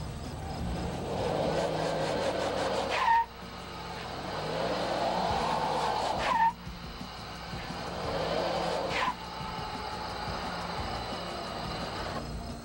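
A four-wheel drive Toyota Tacoma pulls away with its engine note climbing through three gear shifts, each rise ending in a brief dip before the next pull.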